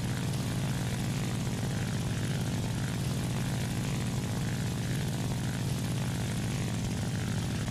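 A La-7 fighter plane in War Thunder, with a steady, droning propeller engine roar that stays loud and even throughout with no talk.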